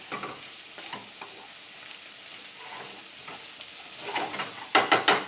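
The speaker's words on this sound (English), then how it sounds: "sofrito happening, or the Holy Trinity. Onions, celery, and carrots for my tomato bisque." Onions, celery and carrots sizzle softly in butter with a little olive oil, a steady low frying hiss stirred now and then, building to a few louder clattering stirs near the end.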